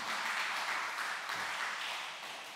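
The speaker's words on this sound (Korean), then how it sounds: "우리 박수로 환영해 주시면 감사하겠습니다" A church congregation applauding to welcome a member during a Sunday service, a soft, steady patter of many hands that fades slightly toward the end.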